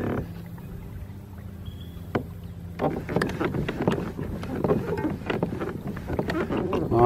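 A fishing boat fitted with a Humminbird Helix 7 fishfinder cruises on a lake, its engine droning steadily close by with water and wind noise rushing over the hull.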